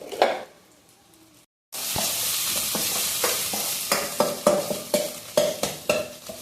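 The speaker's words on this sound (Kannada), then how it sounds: "ಸ್ವಲ್ಪ ಚೆನ್ನಾಗಿ ಫ್ರೈ ಮಾಡ್ಕೊಳ್ಳೋಣ ಇದು." Momo vegetable filling stir-fried in a pan gives a loud, continuous sizzle, with a regular series of scraping strokes from the spatula after a brief silent gap.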